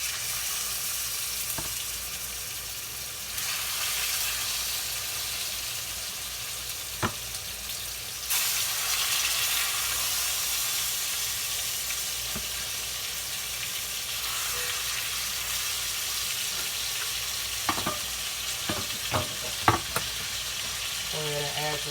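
Filet mignon steaks sear in a hot pan for a steakhouse-style dinner, a steady loud sizzle running throughout with occasional sharper pops and crackles toward the end.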